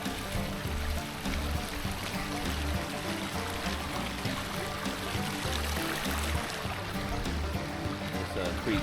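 Wolf Creek in a Georgia state park campground, water rushing and burbling steadily over rocks as someone wades through it, a close, continuous flow with a low rumbling undertone throughout.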